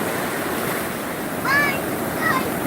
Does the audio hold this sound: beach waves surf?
yes